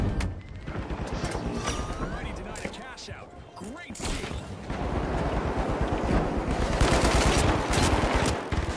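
Gunfire in the shooter game The Finals crackles as dense automatic bursts mixed with impacts and blasts, loud and nearly continuous, with a player talking over the shooting.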